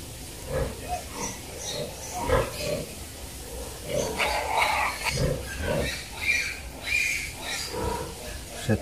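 Piglets on a pig farm oink and squeal in repeated short bursts, close by and fairly loud, with a few overlapping grunts across the whole stretch.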